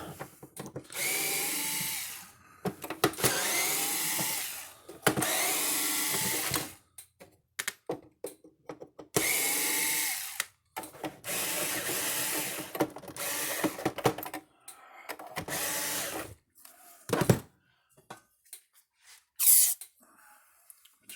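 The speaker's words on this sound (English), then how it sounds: "Let's get these screws out of here now." A power drill backs screws out of a Zareba International 5000-B 100 Mile fence charger, whirring in repeated bursts of a few seconds each, separated by pauses and small clicks.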